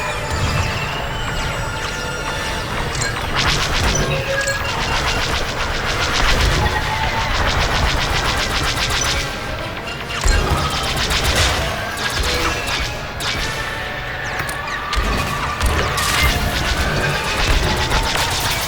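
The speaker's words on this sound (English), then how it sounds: "Lots of missiles coming in. I'm under fire." Space combat in the Star Wars Squadrons video game: incoming missiles and dense rapid gunfire blasts crackle continuously, loud and busy, with occasional crashing impacts and no voices.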